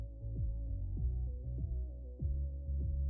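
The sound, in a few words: video game soundtrack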